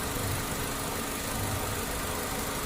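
A Chevrolet Sonic 1.4 LT from 2014 with its 1.4-litre Ecotec engine idles steadily at close range, a smooth, even hum with no voices over it.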